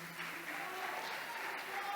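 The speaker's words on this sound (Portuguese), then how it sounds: "Palmas para o Mateus, pessoal aqui" Soft, brief clapping from a small group at a Brazilian gathering, cheering a young man named Mateus, with faint voices mixed into the patter.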